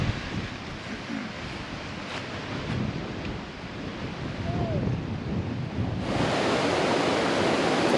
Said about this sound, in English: So here we are at the Barrington River.